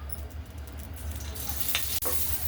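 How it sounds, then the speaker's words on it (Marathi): Steady sizzling of green chilies frying in hot oil in a pan, with a light scrape of stirring near the end. "आता याच कढईमध्ये मी 2-4 मिरच्या तेल टाकून भाजून घेते"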